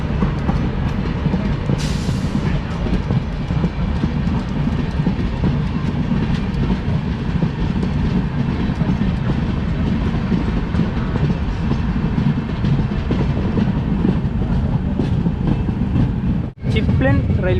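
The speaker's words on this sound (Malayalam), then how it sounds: "ചിപ്ലൻ റെയിൽവേ സ്റ്റേഷനിൽ വണ്ടി എത്തി." The Mandovi Express rolls into Chiplun station on the Konkan Railway in monsoon weather, heard from on board as a continuous loud rumble with rhythmic wheel clatter.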